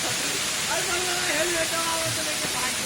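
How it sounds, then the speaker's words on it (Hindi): Water pours steadily at Telhar Kund waterfall in Kaimur, Bihar, a dense, continuous rushing hiss that fills the scene, with faint voices underneath. "पानी गिर रहा है"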